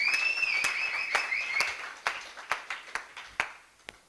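At a mock award ceremony, a handful of people clap sparsely and unevenly, with a few separate sharp claps trailing off as a high electronic tone fades at the start.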